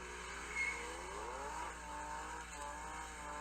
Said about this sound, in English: The tires are louder than the fucking engine.